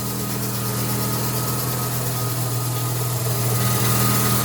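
A Mazda RX-7 FC with a naturally aspirated street-ported rotary engine idles steadily, a loud, constant low hum with a slight rise in intensity toward the end, and no talking.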